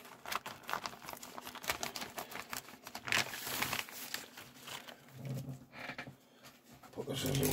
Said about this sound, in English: cut open the bag